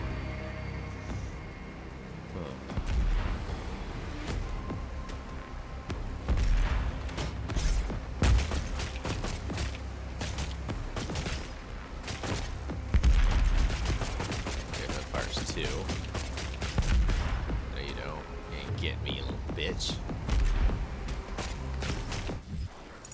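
Enemies firing in the shooter DOOM Eternal, a sustained barrage of sharp shots and impacts with mechanical clanks, loud and chaotic throughout, with a voice talking now and then.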